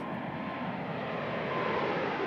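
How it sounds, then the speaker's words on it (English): A Boeing 747 jet in flight during a high-speed flutter test makes a steady, unbroken engine and air roar that holds at an even level throughout. "Next, they put this new jet through the flutter test."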